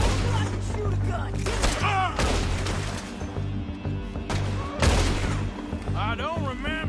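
Loud video-game gunshots crack in rapid bursts, with voices talking over and between the shots, and sharp impacts stand out amid the shooting.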